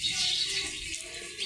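Water seeps through a house wall and pours out from below, flooding a room near a cooking hearth; a steady, close rushing hiss runs throughout with no talk.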